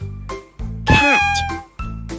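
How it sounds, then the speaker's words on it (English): A cat gives a clear, drawn-out meow, loud and close, between short bursts of tonal sound in a children's phonics lesson. "Cat."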